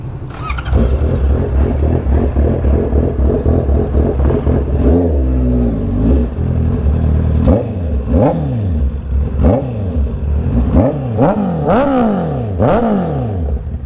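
A Honda CB650R motorcycle engine sputters and stumbles, revving unevenly in repeated uneven surges as it misfires close by.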